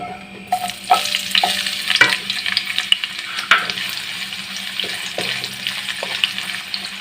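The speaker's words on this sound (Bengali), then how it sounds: "কুচানো পেঁয়াজগুলোকে আমি ফ্রাই করে নেব" Chopped onions fry over a low flame in about two spoons of white oil and two of ghee, a steady close sizzle broken by repeated scrapes and clinks of stirring.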